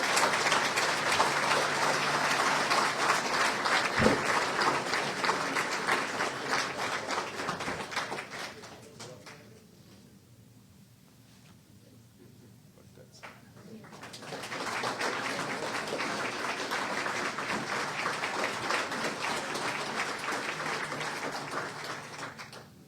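A crowd applauds to welcome Keenan Reynolds as new head coach of the Owen Sound Attack hockey club, loud sustained clapping that fades to a lull before swelling again.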